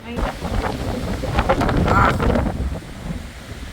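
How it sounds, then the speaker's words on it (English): Strong Hurricane Milton winds near Disney World roar outdoors in rough, gusting surges that buffet the microphone up close for a few seconds. "just when you look at the tree and you see the wind and you see the blowing"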